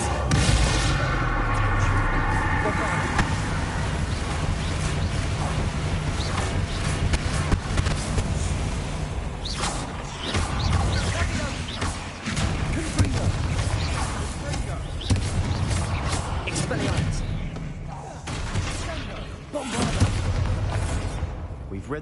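Confringo spell blasts in the video game Hogwarts Legacy, booming thuds and bursts amid a dense mix of combat effects and music, with a voice speaking over parts of it.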